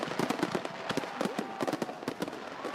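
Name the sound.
homemade firecrackers exploding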